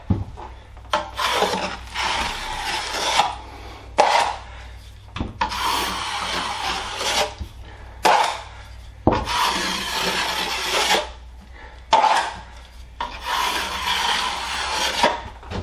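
A bent drywall knife scraping joint compound along a taped drywall joint, in a series of long, rough, rasping strokes separated by short pauses, heard close and fairly loud with no talking.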